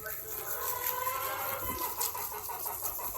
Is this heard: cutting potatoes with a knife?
no